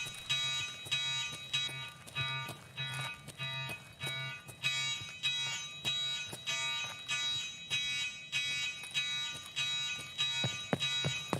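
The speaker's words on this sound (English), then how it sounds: "let's get away from this horrible alarm" A repeating electronic alarm blares in the video game Escape From Tarkov, on the Interchange map, a harsh pulsing tone cycling steadily for several seconds with no talking.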